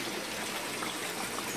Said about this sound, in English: You see where it's bubbling up there, that's where it comes in